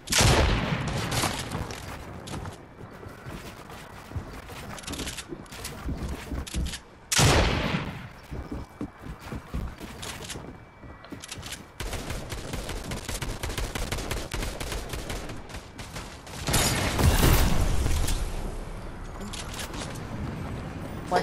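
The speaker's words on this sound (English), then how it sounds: "Watch out, someone's shooting at you." Fortnite gunfire, rapid strings of shots rattling near and loud with several heavier booming blasts standing out, a voice briefly heard among the shooting.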